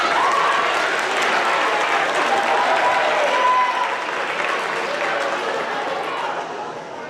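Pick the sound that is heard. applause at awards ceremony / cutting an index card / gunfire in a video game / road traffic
applause at awards ceremony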